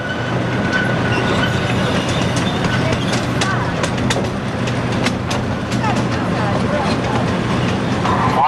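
Steady rumble of a tourist train ride on the Alabama Indian reservation, with rhythmic clickety-clack of wheels on rails and occasional sharp clicks, continuous and close, like riding aboard an open coach.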